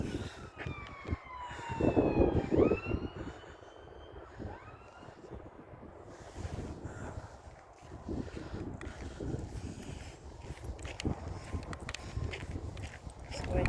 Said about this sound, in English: It's an ambulance. Emergency ambulance.